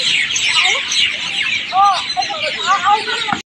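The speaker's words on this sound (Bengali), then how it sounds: "পাখি ডাকাডাকি করছে" Birds call at dusk in a mix of clucking and chirping, with a rooster-like fowl call prominent, repeated several times and fairly close, then cut off abruptly near the end.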